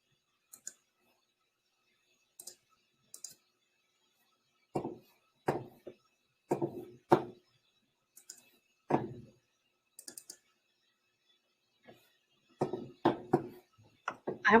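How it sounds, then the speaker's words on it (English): A computer mouse clicks in short, scattered bursts, sometimes single clicks and sometimes quick clusters, close to the microphone with near silence between them. "sorry for all the noise with the mouse clicking here"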